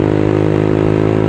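A modified 2015 Yamaha X Ride automatic scooter engine runs loud and close, a steady buzzing drone with strong even harmonics and no talk over it.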